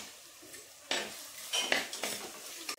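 Onions sautéing with salt, garlic and cardamom in a pan, with a spoon scraping and clinking against the metal in a run of sharp strokes over a faint background sizzle.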